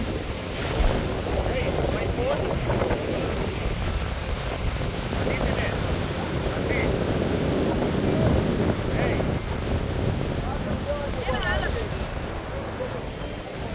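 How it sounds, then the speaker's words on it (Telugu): Strong wind buffets the microphone over rolling ocean waves near Haiti aboard a Royal Caribbean cruise ship, a loud, continuous roar with a voice speaking faintly under it. "అటువైపు నుంచి వేవ్స్, గాలి గట్టిగా వీస్తుంది"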